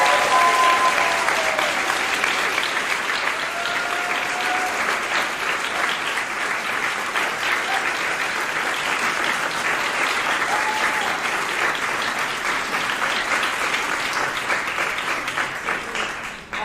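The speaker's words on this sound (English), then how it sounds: "If everyone could give another round of applause" A large audience at a Stanford speech and Q&A applauds steadily for Hasan, a dense, sustained wash of clapping from many hands that holds evenly throughout before tapering slightly at the very end.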